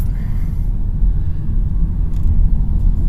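A Hyundai Kona Electric drives along with a low, steady road rumble and tyre noise from inside the cabin, with a faint whine and small bumps but no speech heard.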